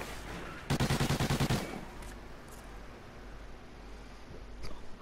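A short rapid burst of automatic gunfire in an online shooter match, about eight quick evenly spaced shots at moderate loudness, followed by faint game ambience.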